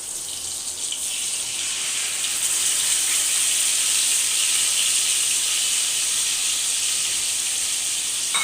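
Grated tomato and onion hitting a hot pan for an egg curry, giving a loud, steady, bright sizzle that holds without a break, close by and with no talking.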